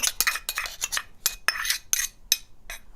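A metal spoon scoops thickened flax eggs into cookie batter in a bowl, giving a series of sharp clinks and scrapes against the bowl in an irregular rhythm, close and clear with no talking.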